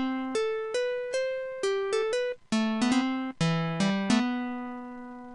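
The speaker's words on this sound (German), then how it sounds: "da gibt es ja auch die Nylon-Gitarre, die hört sich so an" A plucked nylon-string guitar virtual instrument plays a short melodic phrase with single notes and chords, clean and close, each note decaying softly.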